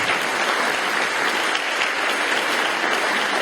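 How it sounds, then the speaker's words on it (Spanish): A church congregation breaks into loud, dense applause during a sermon, with many hands clapping together in a steady roar that fills the space without pause for several seconds. "Denle un aplauso a Cristo."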